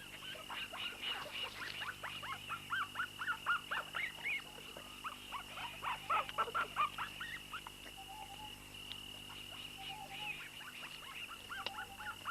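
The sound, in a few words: wild dog pups squabbling over meat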